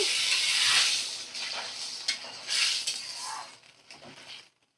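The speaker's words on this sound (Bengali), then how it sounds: "এবার দেখো আমি পরিমাণ মতো জল দিয়ে দিচ্ছি।" A sharp hiss and rush as water hits a hot pan of fish head and rice, loud at first, then bubbling down and fading to silence.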